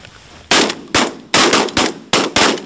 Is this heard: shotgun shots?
yes